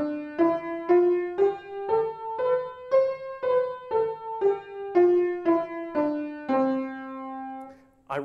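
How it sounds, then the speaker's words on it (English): A major scale played note by note on an instrument, eight steady tones climbing then stepping back down at an even pace, each note struck cleanly and ringing briefly, heard alone without talk. "the most basic element in traditional Western music is what's called a major scale"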